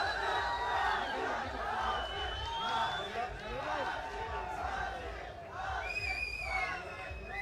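A large crowd at the Matrix Fight Night MMA event keeps up steady cheering, shouts and whistles in a busy arena, with people talking over the din.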